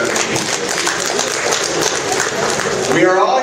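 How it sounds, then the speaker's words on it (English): Audience applauding at a 50th Nigerian Independence Day celebration, a steady dense wash of clapping held throughout, loud and close, with a voice briefly rising near the end. "So please, let's applaud them for the work they've done."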